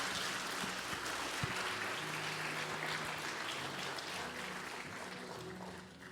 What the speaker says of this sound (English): Would you give them a round of applause for being up here?